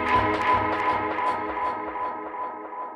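A mellow, looping reggae dub music sample with a steady bass pulse and sustained tones, played alone at moderate volume with no voices.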